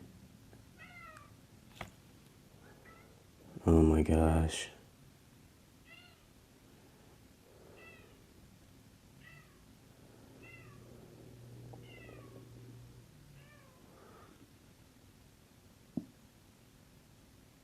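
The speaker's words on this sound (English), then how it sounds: "Oh my gosh, here comes my cat." A pet cat meows repeatedly in a series of short calls spread through a quiet indoor room, with one brief loud burst of noise early on and a person briefly exclaiming.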